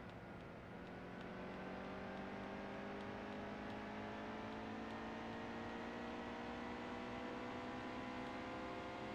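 Race car engines in the NASCAR Heat 2 video game during pit stops at Homestead produce a steady, dense whining drone with slowly gliding engine pitch, continuous and fairly loud with no talk.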